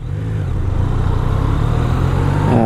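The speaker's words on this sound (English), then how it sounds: "Engine braking on this is very smooth." A Yamaha FZ-09 (MT-09) motorcycle engine braking on a test ride gives a loud, steady, smooth engine drone that rises slightly near the end.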